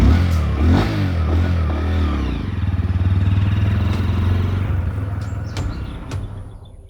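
A motorcycle engine hums close by with a throaty, steady drone and some rattling, rising slightly midway, then fading and thinning toward the end.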